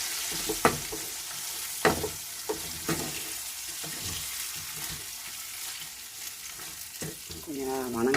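Eggplant fries in a pan with chili powder, a loud close sizzle broken by repeated clatters of a spoon stirring, with a short hum of voice near the end.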